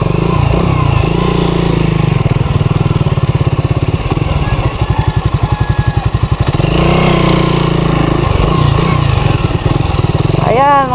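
A motorcycle engine runs close by at a rock formation near Ambang Falls in Matanao, Davao del Sur, with a loud rhythmic idle putter that dips briefly and then returns, while people talk over it.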